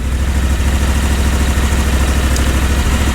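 A Kawasaki FR730V small V-twin engine idles steadily close by, a loud, even low-pitched rumble with a fast regular firing pulse and light mechanical clatter, running without a break.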